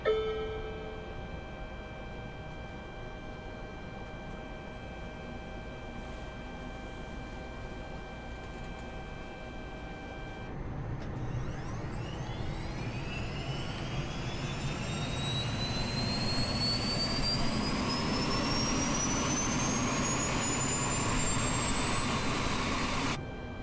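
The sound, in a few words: Eurocopter EC135 helicopter engines starting, video game Microsoft Flight Simulator 2020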